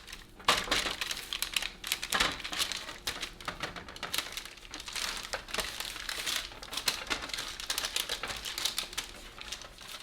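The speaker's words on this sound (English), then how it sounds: "So what we'll do next is wrap it in saran wrap." A cookie dough log is wrapped in saran wrap, producing close, continuous plastic crinkling and crackling in irregular bursts over ten seconds. No one speaks.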